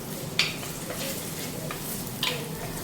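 Ginger and garlic fry with a steady, close sizzle in a pan while cooking a Kottayam-style sardine curry, with a couple of brief metallic scrapes of stirring.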